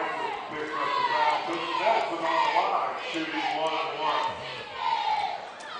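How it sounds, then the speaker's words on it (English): A basketball tournament crowd in a gym shouts and hollers in rising, overlapping waves of voices, loud and continuous, with the clamour swelling and falling over several seconds. "Crowd getting a little upset here."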